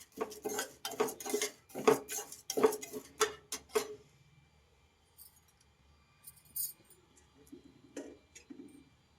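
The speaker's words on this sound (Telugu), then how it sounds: "సిమ్లో కొంచెం రెడ్ కలర్ వచ్చే వరకు ఫ్రై చేయాలి." Sesame seeds being dry-roasted in a pan over a low flame give a run of sharp scraping and clinking strokes for the first few seconds, then quieter scattered rattles and light taps.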